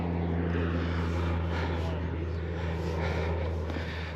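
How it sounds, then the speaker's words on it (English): A seaplane flying overhead drones as a steady, moderately distant propeller hum, filling the whole stretch evenly, with people talking outdoors. "What's flying? Seaplane!"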